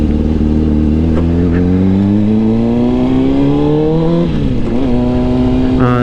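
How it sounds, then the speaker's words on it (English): A car engine idles at around 1400 rpm as a steady, loud, close drone whose pitch creeps slowly upward, then dips briefly and settles again. "So I ended up putting it about 1400, and the idle sounds perfect now."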